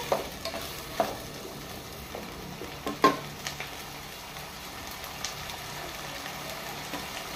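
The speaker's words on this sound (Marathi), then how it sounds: "बरें आमकां एक 5 to 6 मिनिट्स बरें फ्राय करून घेवपाचें" Green peas frying in a pan for a Goan mixed vegetable curry, a soft steady sizzle broken by scattered scraping stirs and a sharper knock of the spoon partway through.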